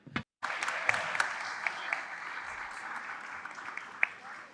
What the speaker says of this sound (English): We can have another round of applause